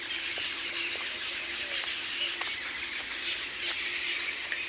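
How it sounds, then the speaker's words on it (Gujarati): Birds call repeatedly in a botanical garden, with short squawks and chirps scattered over a steady background hiss, moderately distant and with no voices. "ખાલી ફક્ત તમારે પક્ષીઓનો અવાજ સાંભળવાનો છે।"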